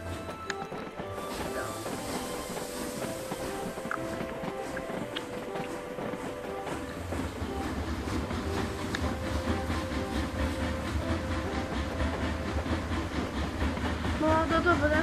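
Trains rolling along in the TrainStation video game, a steady mechanical rumble with faint clickety-clack and layered game sounds that grow slightly louder toward the end, with no speech over it.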